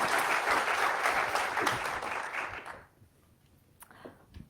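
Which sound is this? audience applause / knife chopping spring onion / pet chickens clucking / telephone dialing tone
audience applause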